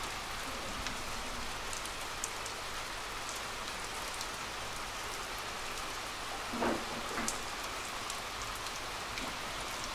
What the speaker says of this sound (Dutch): Zoals jullie konden zien, is het aan het regenen.